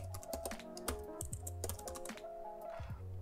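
Someone types a command on a computer keyboard, a quick run of close, crisp key clicks with brief pauses between bursts and no talking.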